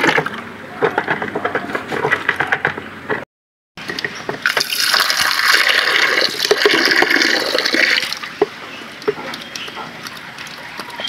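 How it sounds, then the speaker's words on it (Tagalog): Water pours and splashes into a chicken and duck drinking container for several seconds, a steady rushing stream with knocks and clatter, after a brief pause. "Lagay tayo ng tubig."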